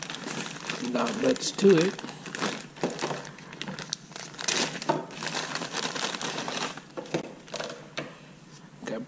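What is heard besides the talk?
opening the packaging of a Tesla speaker kit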